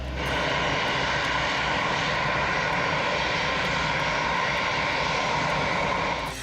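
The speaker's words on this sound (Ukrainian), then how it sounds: "Ранок четверга в аеропорт Анкари прибуває борт номер один." A fixed-wing aircraft, Ukraine's presidential plane, arrives at Ankara airport on a Thursday morning, its engines giving a steady, fairly distant drone that holds at an even level throughout with no voices.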